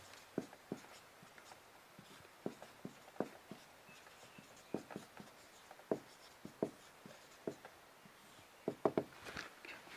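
A pen scratches out notes during a chemistry lesson, making faint, irregular short strokes and taps close by in a quiet room.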